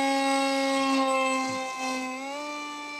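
An electric RC F-18 jet with an A2212/5T 2700 Kv motor and APC 6x4 gas prop on 3S flies with a steady, high, whining motor tone whose pitch dips and then rises.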